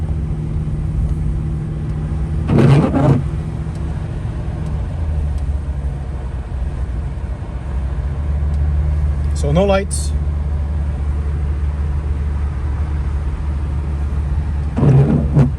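A Ford Crown Victoria engine idles steadily with a low continuous rumble, running smoothly without hesitation, while someone speaks briefly near the camera and short louder bursts pass over it.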